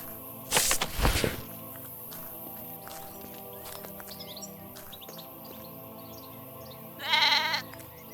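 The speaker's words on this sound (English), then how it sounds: "Sheep looks as if it wanted to come with you." Sheep bleating in the video game Drova, one loud bleat near the start and a second shorter call a few seconds later, over a quiet ambient bed of chirping birds.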